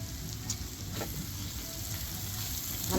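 Fresh onions sizzling and frying in a pan for a jackfruit seed curry, a steady crackling hiss with small pops throughout, close and continuous, with no talking.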